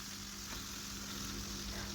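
A whole chicken searing in a pot over high heat with bay leaves and cardamom, a continuous loud sizzle with faint stirring.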